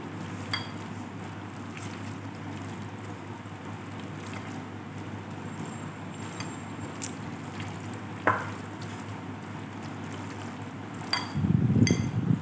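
Pakoras frying in hot oil in a kadai make a steady, soft bubbling sizzle throughout, with a few faint clicks and a louder burst of crackling near the end.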